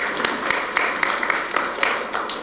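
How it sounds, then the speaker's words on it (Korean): Audience applause at an anniversary ceremony for a city mayor's term, continuous moderate clapping with distinct individual claps standing out, heard from within the room. "저와 같이 박수 한번 쳐주세요"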